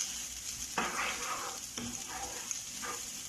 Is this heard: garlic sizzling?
yes